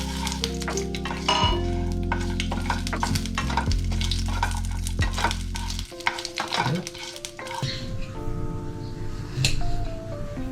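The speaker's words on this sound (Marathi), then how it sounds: "यामध्ये थोडे तेल घेऊन खडे मसाले छान हलक्या फ्लेमवर भाजून घेतले." Whole spices roasting in a little oil over a low flame, with steady sizzling and repeated stirring scrapes, the texture thinning and changing partway through.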